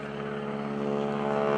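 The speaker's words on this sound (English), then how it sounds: "This is an open cockpit airplane." Stearman open-cockpit biplane engine droning during airshow aerobatics at Greenwood Lake, a steady propeller roar that swells slightly louder toward the end.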